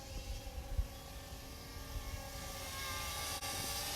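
A DJI Tello drone flying outdoors in wind, a faint steady propeller whir with low wind buffeting, no voices.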